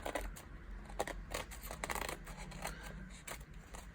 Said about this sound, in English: So I'm going to trim them down from this side.